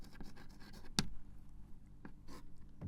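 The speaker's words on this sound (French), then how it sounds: "On va écrire ici" Writing on a board during a French literature lesson, soft scratchy strokes with a sharp tap partway through, close and steady over a low room hum, no voices heard.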